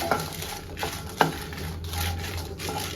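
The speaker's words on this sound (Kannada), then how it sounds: "ಇವಾಗ ಇದಕ್ಕೆ ಮೆಣಸಿನ್ಕಾಯಿ, ಒಣಗಿದ ಮೆಣಸಿನ್ಕಾಯಿ ಹಾಗೂ ಹುಣಸೆಹಣ್ಣು ಚೆನ್ನಾಗಿ ಹುರ್ಕೊಳ್ಳೋಣ." Dried red chilies and tamarind fry in a little oil and are stirred, with a close sizzle and a few sharp scrapes of a spatula against the pan at irregular intervals.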